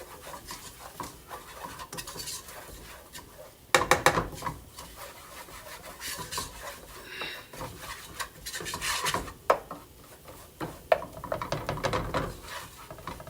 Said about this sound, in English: Now I'm going to take my 4th cup of flour and stir.